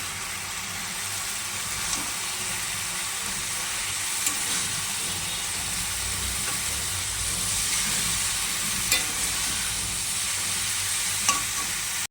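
Chowmein noodles being mixed in a hot frying pan, giving a steady bright sizzle with a few sharp utensil clicks and scrapes at intervals, close and continuous, no voices.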